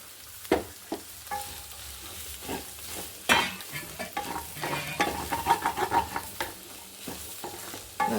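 Rice being stirred and fried in a pan for paneer corn fried rice, a continuous sizzle broken by repeated scraping stir strokes and clinks of the spatula, close and fairly loud.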